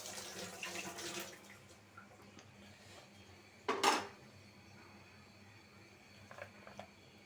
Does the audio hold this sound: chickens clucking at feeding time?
no